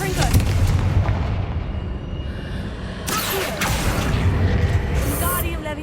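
A fiery Confringo blasting spell explodes in Hogwarts Legacy, with a loud, sustained rumbling roar and a sharp, bright blast partway through, over dense game ambience.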